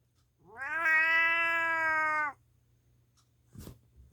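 An old cat lets out one long, loud, drawn-out yowl lasting nearly two seconds, followed by silence and a brief faint thump.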